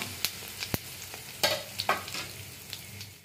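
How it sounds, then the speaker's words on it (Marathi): Cumin seeds, chopped onion and curry leaves fry in hot oil for a Konkani-style okra and potato upkari, giving a low sizzling bed broken by several sharp crackles and pops, close and fairly loud, with no talking. "एक चमची जीरे कांदा वरला घालता करबेवु घालता"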